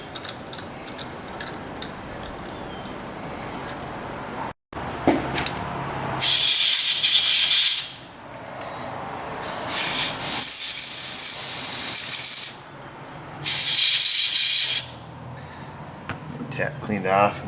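Compressed air blasting metal shavings out of a freshly tapped threaded hole: three loud, long hissing bursts of air after a quieter stretch of workshop handling sounds.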